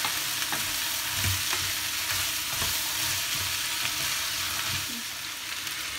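Broad beans for a sesame curry fry in a pan as they are stirred, a dense, steady sizzle with soft scraping stirs now and then, close and continuous.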